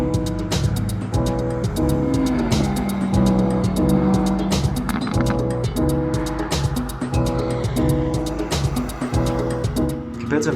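Track-day cars, from fully prepared race cars to 1990s Japanese models, lapping Sydney Motorsport Park; loud, dense engine roar with revving shifts and a car passing close, sharp transient clicks and some tyre noise throughout.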